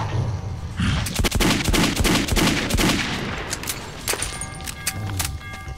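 Rapid weapon fire in the shooter game Metro 2033, loud dense bursts of shots in quick succession with a few separate reports trailing off, no talking over it.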